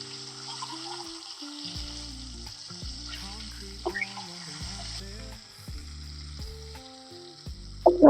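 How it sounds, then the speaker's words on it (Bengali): Flat beans (shim) sizzle in a hot pan, a steady frying hiss running beneath background music, with a sharper burst of crackling near the end. "শিমগুলোকে ভেজে নেব।"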